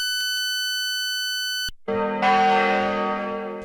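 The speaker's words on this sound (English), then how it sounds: "the bells rung at St. Andrew's Cathedral in Grand Rapids" Bells ring out from St. Andrew's Cathedral in Grand Rapids: a steady tonal chime gives way to a loud, rich clang of several bells sounding together, their tones lingering and slowly fading.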